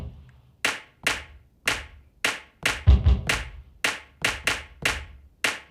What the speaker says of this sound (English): So I augmented it with a clap.